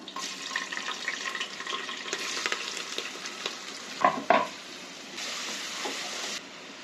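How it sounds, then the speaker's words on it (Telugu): Onions and green chillies frying for mutton keema curry, a steady broadband sizzle with stirring scrapes and a couple of sharper clatters near the middle, heard close and alone. "ఉల్లిగడ్డలు మంచిగా ఫ్రై కానీకి మంచిగా 5 నిమిషాలు ఉల్లిగడ్డలు ఫ్రై చేసుకున్నాం"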